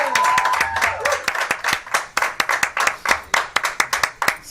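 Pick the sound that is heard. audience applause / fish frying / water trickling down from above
audience applause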